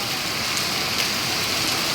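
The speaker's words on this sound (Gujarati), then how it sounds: "મુસળધાર વરસાદ વરસી રહ્યો છે" Heavy torrential rain pours down on a Saturday night after three days of continuous rainfall, a dense, steady hiss filling the whole moment with no voices.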